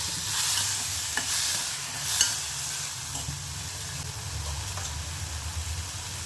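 Dried shrimp with brinjal, potato and tomato sautés in a pan, giving a continuous close sizzle with occasional soft clicks of stirring and no voices.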